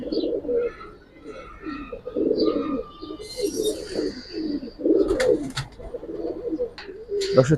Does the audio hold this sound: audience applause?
no